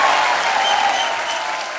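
Loud, sustained studio-audience applause greeting dancer Helen's entrance on The Kapil Sharma Show, a dense, even roar of clapping with a faint musical tone beneath, easing slightly toward the end.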